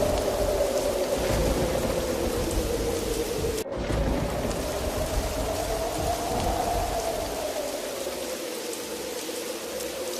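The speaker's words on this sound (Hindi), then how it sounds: "तूफानी बारिश शुरू हो जाती है।" Stormy rain pours steadily in a dense, continuous wash, with a low thunder rumble beneath and a brief gap near the middle before the downpour resumes, heavy and close throughout.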